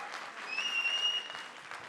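Audience applause at the trailer launch event for the show 'Maamla Legal Hai' with Ravi Kishan and Kusha Kapila: a steady, even wash of clapping from a crowd, moderately quiet, with a thin whistling tone running through the middle.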